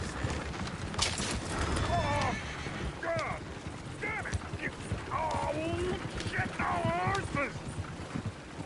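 Horses in the Red Dead Redemption 2 video game clip-clop and whinny close by, with several sharp neighs breaking through the hoofbeats while people talk over them.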